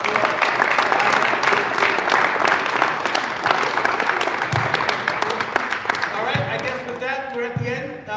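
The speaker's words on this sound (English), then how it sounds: "a loud round of applause" An audience at a cricket trophy presentation after a Sri Lanka versus England final breaks into a loud, sustained round of applause that thins out near the end, with a voice talking faintly beneath.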